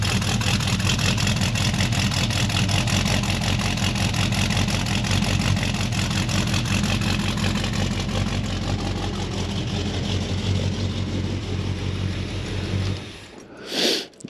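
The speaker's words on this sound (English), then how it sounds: "once you get some gas in it, it's got a nice little rumble to it." An AMC AMX's engine idles with a steady, loud low rumble close by, holding an even tone throughout before cutting off abruptly near the end.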